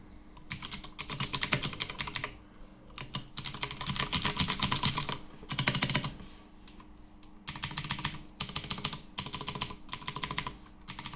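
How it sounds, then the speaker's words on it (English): Typing on a Drop CTRL mechanical keyboard with Cherry MX Blue switches gives bursts of rapid, crisp clicky keystrokes separated by short pauses, close and alone. "you can hear the Cherry MX Blue switches are great."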